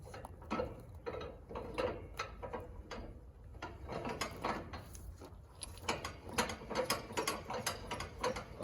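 A homemade ratchet strap winder reels in a ratchet strap with a steady run of close, dense mechanical clicks and whirring, sustained over several seconds without talk.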